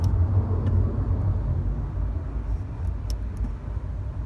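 A 2000 Honda Accord engine, its gas pedal sticking, roars in a steady low rumble as the throttle is floored, loud and close with no talk.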